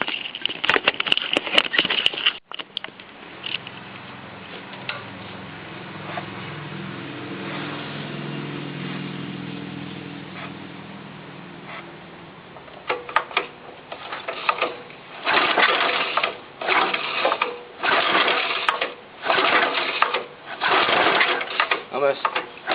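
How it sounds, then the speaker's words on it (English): A John Deere 60 tractor engine cold-starting: a steady, low mechanical drone for several seconds, then a run of loud, uneven chugging bursts as it tries to catch, heard close up. "So here's a cold start."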